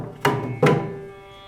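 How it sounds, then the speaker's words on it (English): Two mridangam strokes in quick succession, close and resonant, mixing a ringing pitched tone with a low bass thump that fades out, with no talking. "So together, we can play a combination of these strokes, producing sounds like these."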